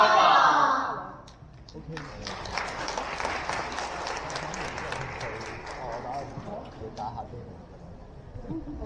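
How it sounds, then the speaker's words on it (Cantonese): Sustained clapping from a large audience at a primary school open day ceremony fills the room, steady and dense for several seconds after a brief burst of sound at the start. "我哋俾多次熱烈嘅掌聲"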